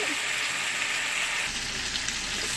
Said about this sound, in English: we're just going to continue to brown the next side